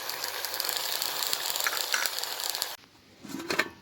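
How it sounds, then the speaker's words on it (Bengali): Leafy greens fry with salt and turmeric in a bright, dense sizzle close by for almost three seconds, then drop to a quieter crackle with a few stirring scrapes. "দেখো আমার শাকটা ভাজা হয়ে গেছে কেমন শুকনো ঝরঝরে হয়ে ভাজা হয়েছে"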